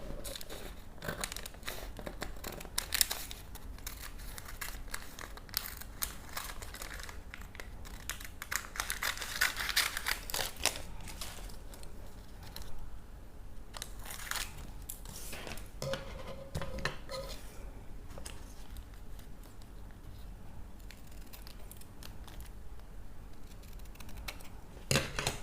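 Scissors cut out paper pattern pieces for a kimono jacket, with irregular close snipping, paper crinkling and rustling, and occasional handling clicks spread over a quiet room, without speech.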